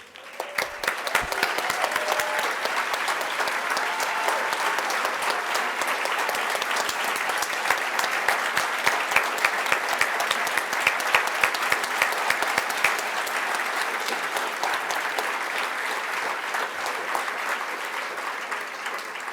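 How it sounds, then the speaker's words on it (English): A breakfast crowd gives a long, sustained round of applause for standing breast cancer survivors, thick and even clapping that holds steady for nearly twenty seconds before easing slightly. "Please stand so we can celebrate all of you with a round of applause"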